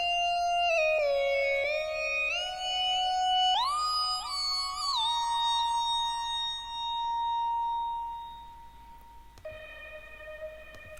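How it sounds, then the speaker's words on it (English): A West Coast–style synthesizer lead plays a gliding, pitch-bending melody with bright sustained harmonics, sliding up and down between held notes, loud and alone in a music production setting. "you got the West Coast lead sound"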